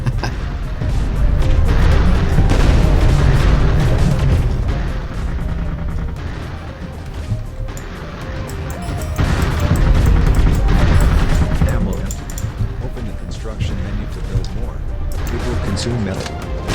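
Repeated explosions and heavy booms as sentries are destroyed in the video game Artificial Extinction, loud and sustained in rolling waves, with talk over the top.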